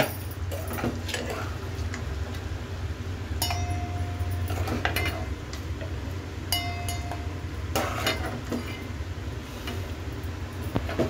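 Mutton curry scooped from a pan into a serving bowl, with repeated metallic clinks and scrapes of a spoon against cookware over a steady low background hum.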